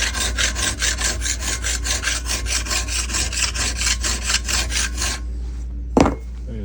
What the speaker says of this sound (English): I'm starting with the file